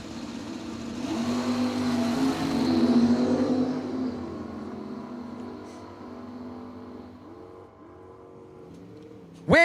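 Drag racing cars, a Buick and a Mopar, launch down the strip at Cordova Dragway with a loud rising engine roar that peaks, then recedes and fades into the distance.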